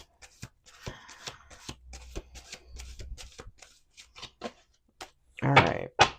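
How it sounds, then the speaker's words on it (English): A deck of tarot cards being shuffled by hand, close and crisp riffling flicks in irregular bursts, building to a dense rapid flurry near the end with no talking. "I pulled a card and held it and still continued to shuffle"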